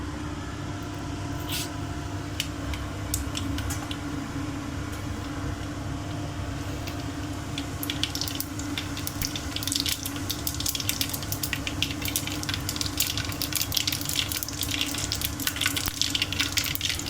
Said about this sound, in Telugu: ఆయిల్ హీట్ అయిందండి, ఆవాలు, జీలకర్ర వేసుకుందాము